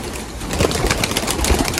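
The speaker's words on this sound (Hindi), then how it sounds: "कबूतर खोल रहा हूँ" Pigeons let out of their loft give a brief burst of cooing mixed with fluttering wing flaps and rustling, fairly loud and close, no voices.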